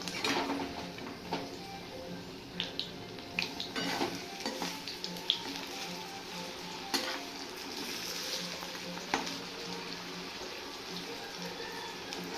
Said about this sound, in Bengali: এই যে আরো বাঁধাকপি ভাজা করছি